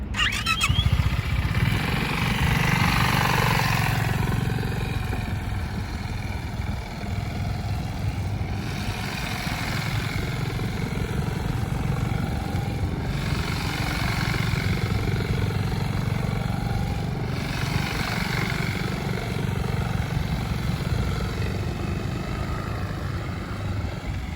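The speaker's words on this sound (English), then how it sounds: "So now I'll do the same circles, but I'll drag a little bit of rear brake." A scooter rides slow circles while dragging the rear brake, its engine giving a steady, continuous drone with small rises and falls in pitch, close and alone for over twenty seconds.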